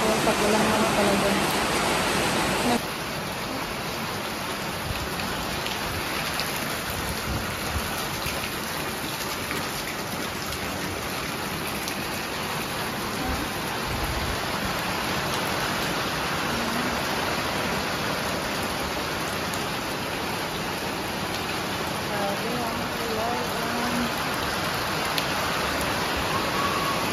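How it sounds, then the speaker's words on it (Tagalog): Heavy rain pours down in a steady, continuous downpour during a stormy spell, a dense close hiss that holds evenly throughout with no talking. "Diretso na ang ulan mga amazing people."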